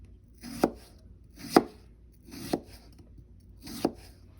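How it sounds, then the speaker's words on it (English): A knife slices through potatoes on a cutting board with four evenly spaced chops about a second apart, each a crisp, close thud, with no talking. "As you can see, I'm slicing them as such so that they're the same thickness."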